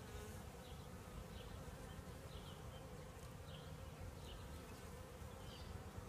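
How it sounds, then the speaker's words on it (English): A swarm of gentle, queenless honeybees buzzes steadily as a continuous, faint droning hum with a few louder passes, with no talking. "Seem like really gentle bees"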